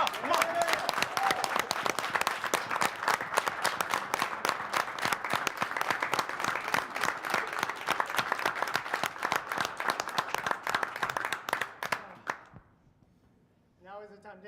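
An audience at a live speedrunning marathon event claps loudly and steadily for about twelve seconds before the applause fades out, with a voice speaking briefly afterward.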